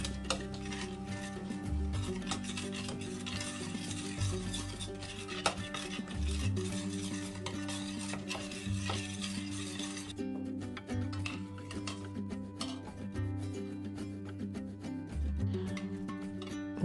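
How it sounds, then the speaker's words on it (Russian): Ingredients for a fly agaric (amanita) ointment with petroleum jelly stirred in a pot, the utensil scraping and clinking steadily and close, a continuous busy kitchen sound with no talking. "Перемешиваем ингредиенты и ставим на водяную баню примерно на 20 минут."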